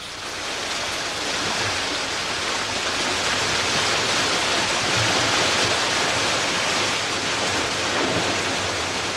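Dense, steady rush of tumbling forest streams fed by mountain rainwater, a loud broadband roar of water that stays constant and close throughout with no voices.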